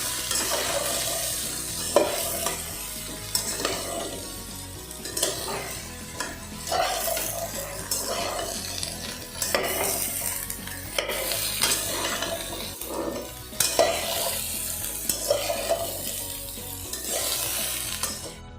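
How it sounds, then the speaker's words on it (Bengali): Ridge gourd and potato pieces frying in a pan while being stirred, with a continuous sizzle and repeated scraping and knocking strokes of a spatula against the pan, close and alone. "আমরা নেড়ে দেবো।"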